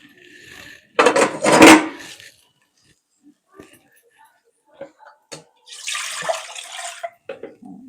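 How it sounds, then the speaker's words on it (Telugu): Water from a glass splashes into a cooking pot in two short bursts, one loud near pour early on and a second softer pour later, with small clinks and quiet gaps between. "ఇందులో ఒక గ్లాసు 2 గ్లాసులు నీళ్లు పోసాను"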